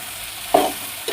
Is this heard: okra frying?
yes